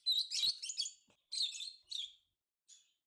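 Pet budgies and lovebirds give bright, high chirps in quick clusters. A few short bursts are separated by brief silences, and the birds sound close and clear.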